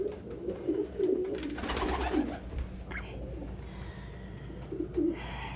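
Pigeon cooing from inside a hospital cage at a bird rescue, several soft, throaty coos repeating close by at a moderate level over a steady low background hum.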